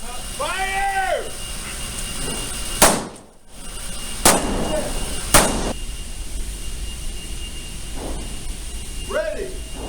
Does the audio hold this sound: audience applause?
no